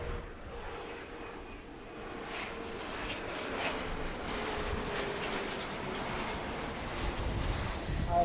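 An Air Canada Express airliner passes near Philadelphia airport, its engine roar building steadily from a moderate wash into a louder, sustained rumble with some wind noise, and no one talking.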